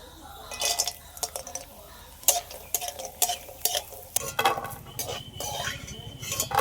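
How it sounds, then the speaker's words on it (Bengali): Urad dal bori frying in mustard oil in a wok, a soft steady sizzle under repeated clinks and scrapes of a utensil stirring against the metal, with a denser crackle joining partway through. "কিছুটা বিউলির ডালের বড়ি আগে ভেজে নেব।"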